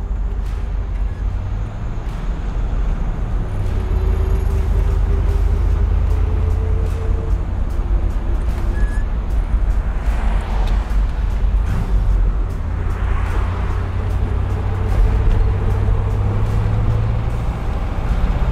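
A 1963 fuel-injected car drives along with its engine running as a steady, smooth low rumble at a constant level, with faint road noise throughout.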